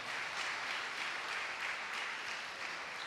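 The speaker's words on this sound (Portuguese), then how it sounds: "Vamos recebê-los com um forte aplauso," An audience gives steady, sustained applause for two church cell-group leaders, a dense wash of clapping at even volume throughout with no talk over it.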